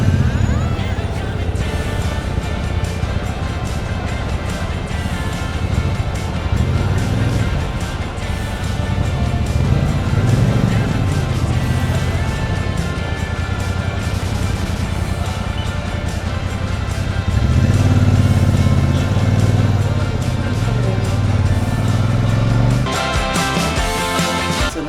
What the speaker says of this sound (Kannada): ಸಿಕ್ಕಾಪಟ್ಟೆ ಟ್ರಾಫಿಕ್ ಮಾತ್ರ, ಮೈ ಗಾಡ್